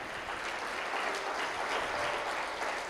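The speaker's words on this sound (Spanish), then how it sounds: "Dale fuerte el aplauso si es para el Señor." Church congregation applauding, a steady dense wash of clapping that runs evenly from start to finish with no voices standing out.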